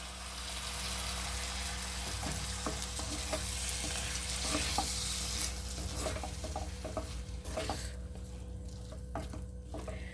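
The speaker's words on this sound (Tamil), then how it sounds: "நம்ம அரைச்சி வச்சுருக்க மசாலாவை ஊற்றிடலாம் இப்போ இது நல்லா வதங்கிருச்சு" Ground coconut masala for egg kurma sizzles steadily in a pan, with repeated scraping stirs clicking against the metal throughout; no voices.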